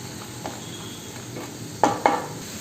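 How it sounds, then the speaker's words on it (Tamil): Vegetables and tomato for semiya kichadi are stirred in a pan, with a faint sizzle underneath and a few soft utensil scrapes, including two sharper knocks close together near the end. "ஒரு தக்காளி பழம் எல்லாமே சேர்த்து நல்லா மிக்ஸ் பண்ணி விட்டுக்கலாம்."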